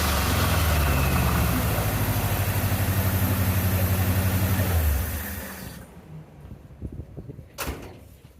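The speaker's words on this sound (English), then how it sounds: "It's maybe still a little bit too much RPM on the base idle, but it seems happy right there" A 1977 Ford F-100 engine idles steadily and loud for about five seconds with a low, even throb, then shuts off, leaving a few faint clicks and knocks.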